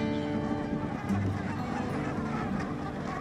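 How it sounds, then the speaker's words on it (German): A large flock of brent geese honks on Hallig Hooge, a Wadden Sea island where they stop over in spring, making a dense, continuous chorus of overlapping calls with no talking. "Mit den Zugvögeln kommen im Frühjahr auch die Ringelgänse."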